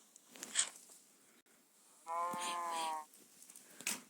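One drawn-out cow moo in the video game Minecraft, in a one-block skyblock survival world, about a second long, stands out from quiet background clicks and rustles, with a couple of faint sharp taps around it.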